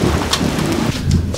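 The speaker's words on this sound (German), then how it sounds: "Das Gewitter ist schon ausgebrochen heute. Ich dachte, es bricht erst um 16 Uhr aus, aber es fängt schon jetzt an zu regnen." A thunderstorm breaks with heavy steady rain and low rumbling thunder, loud and close, filling the whole clip with dense noise and no voices.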